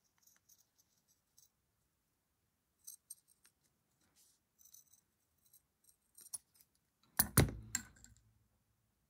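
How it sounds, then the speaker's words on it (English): Scissors snip through doll dress fabric in short, quiet cuts scattered across a hushed room, ending with a louder cluster of clicks and rustles close by. "I'm just going to cut around that."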